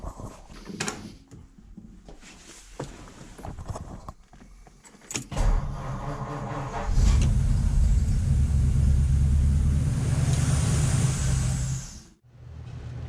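A 1953 Ford Club Coupe is cranked to try to start it: scattered clicks and clunks come first, then a loud, sustained churning crank for several seconds that cuts off abruptly near the end.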